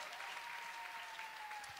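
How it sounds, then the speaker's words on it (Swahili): A church congregation at a Kikuyu service claps and cheers in a steady, dense wash of applause with a thin sustained tone running underneath. "Shangwe na vigelegele kwa Mwokozi."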